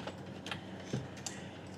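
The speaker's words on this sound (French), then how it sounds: "je vous invite à appuyer sur la touche M de votre clavier" Single key presses on a computer keyboard make a few sparse, light clicks, close by and fairly faint, over steady background hiss.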